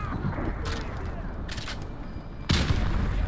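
A frag grenade explodes in Call of Duty Modern Warfare 2, in a Washington under siege battle: a sudden loud, deep blast late in the clip follows a few scattered sharp cracks over a low rumbling battlefield background.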